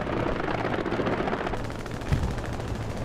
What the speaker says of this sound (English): Strafing run coming in.